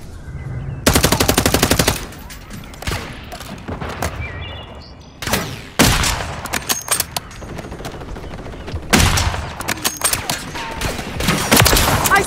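Rapid automatic gunfire from Call of Duty Modern Warfare III multiplayer combat, loud sustained bursts alternating with shorter volleys and scattered shots.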